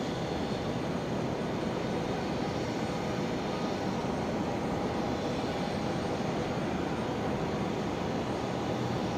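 A China Airlines jet departs at night from runway 01 at Brisbane Airport, a steady distant engine roar that holds even and broad with no voices over it.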